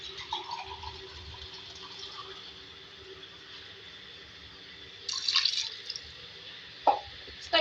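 Water is poured into a cooking pot of Sindhi beef aloo gosht, giving a steady trickling fill over a low hum, then a louder splashing burst and a sharp clink near the end.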